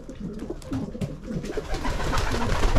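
Damascene pigeons cooing in a loft in Berlin, soft low rolling coos repeating close by over a steady background hiss that grows slightly louder toward the end.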